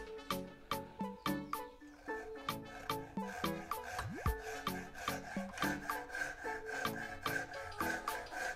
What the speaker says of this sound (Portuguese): E vamos cortar com um serrote. Eu vou usar esse serrote japonês.